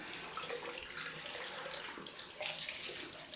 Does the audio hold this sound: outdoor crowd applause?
no